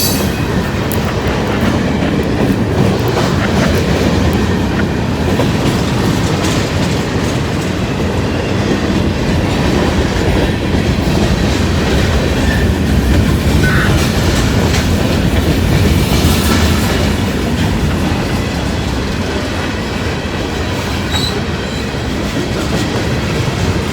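A Norfolk Southern train rumbles past continuously at close range, a heavy steady roar with clattering wheels and faint metallic squeals, no talking.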